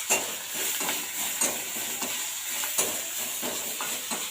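Chopped onions and garlic frying in a little fish oil in a pan, giving a steady close sizzle and hiss with repeated scraping stir strokes throughout.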